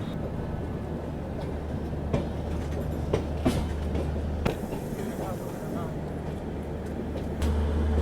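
Gondwana Express pulling into Nagpur station, a steady heavy rumble of the train with scattered clanks and brakes, a shift in tone midway as it slows, voices faintly in the background.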